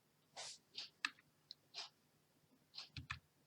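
Sharp, close computer mouse clicks come in small irregular bursts, single and double taps spaced by short pauses and quiet breathing, while grid lines are set by clicking in a ruler of a drawing program.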